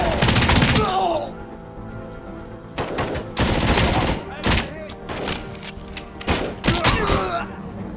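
Gunfire in the video game Robocop: Rogue City: heavy repeated bursts of automatic shots and thuds in several loud volleys, with a brief voice cry among the shooting.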